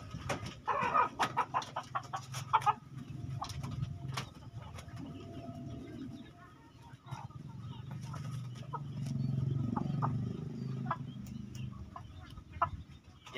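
Backyard breeding chickens kept in a home setting cluck and coo in scattered, fairly close bursts over a low, steady background rumble, with some faint talking mixed in.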